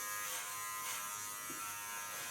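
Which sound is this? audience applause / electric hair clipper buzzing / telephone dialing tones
electric hair clipper buzzing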